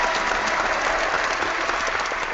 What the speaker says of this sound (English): I'm sorry I didn't give you other guys applause, but I didn't have my special effects up and running at that point